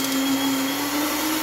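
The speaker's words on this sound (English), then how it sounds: "The blender's not the strongest." A Ninja blender motor whirs at a steady, high-pitched drone, loud and continuous throughout.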